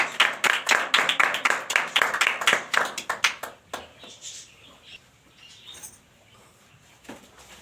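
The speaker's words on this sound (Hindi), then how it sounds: "खुदा के खादम के लिए और खुदा के कलाम के लिए जोरदार तालियां।" Church congregation clapping for a preacher, a loose burst of individual claps that thins out after a few seconds, leaving a few scattered claps in a quiet room.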